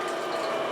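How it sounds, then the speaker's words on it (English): A vertical slow juicer, such as the Shine, presses soaked almonds into nut milk with a steady, continuous mechanical grinding and whirring hum. The sound is close and fills the whole stretch without a pause. "just let the machine work to extract all the delicious nut milk"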